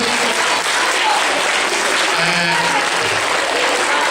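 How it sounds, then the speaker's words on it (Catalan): A school audience applauds loudly after a children's performance of The Little Prince, a steady, dense wash of clapping that holds without a break for the whole stretch. "Així és que els acomiadem amb un aplaudiment."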